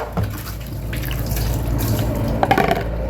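Water runs steadily from a tap while a chamber pot is washed, with splashing and dripping throughout and small clatters near the end.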